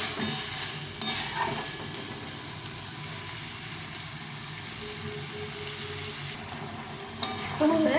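Vegetable curry being stir-fried in a pan with spices and water for a meatless home-style dish, a steady close sizzle with scraping stir strokes throughout and a few louder clatters near the start and end.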